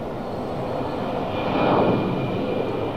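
A United Boeing 737 airliner takes off, its engines producing a broad, distant roar that swells slightly near the middle and then eases, with no voices.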